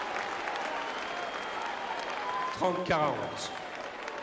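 A tennis crowd at Roland Garros, during the 2016 final between Garbiñe Muguruza and Serena Williams, applauds steadily throughout. An umpire's voice briefly calls out over the clapping.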